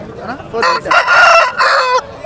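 A rooster crows loudly and close by at a weekly chicken market in Galiveedu, giving one drawn-out call broken into several bursts.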